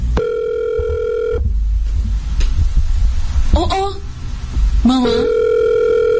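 A telephone rings with steady electronic tones in two bursts, one at the start and one near the end. Voices exclaim briefly in between.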